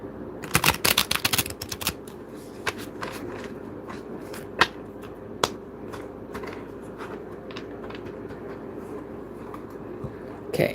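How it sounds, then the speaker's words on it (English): A stiff deck of playing cards with metallic-style printed backs being shuffled by hand, giving a quick burst of close riffling clicks at the start and then sparse, faint taps and rustles over a low room background, with no talk. "now that the deck has been shuffled"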